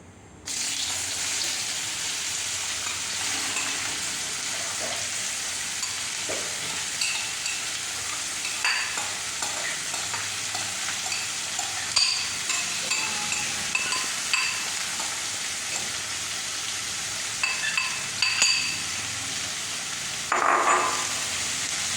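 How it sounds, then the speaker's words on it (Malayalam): Onions fry in hot coconut oil in a pan, a loud steady sizzle throughout with occasional stirring scrapes and crackles. "കോക്കനട്ട് ഓയിൽ ചൂടായിട്ടുണ്ട്. നമുക്ക് ഒനിയൻ ആഡ് ചെയ്തെടുക്കാം"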